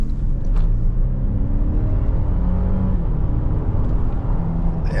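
A 2026 Toyota LandCruiser Hybrid (300 Series) accelerates flat out toward highway speed, a loud, continuous engine drone and road whir heard from inside, with rising tones sweeping up as it gains speed.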